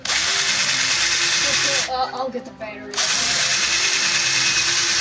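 A power drill bores into an LG phone with a loud, steady high whine that stops briefly while someone speaks, then resumes at full strength.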